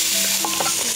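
Potato pieces sizzle and fry steadily in a pan at close range, a continuous loud crackling hiss with faint stirring clinks and no voices.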